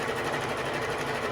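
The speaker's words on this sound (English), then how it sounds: "do some initial stitches, then do what's called back tacking by holding down this reverse switch all the way to the edge" A sewing machine runs steadily while back tacking stitches on a fabric face mask, a fast, even mechanical whir heard close and alone.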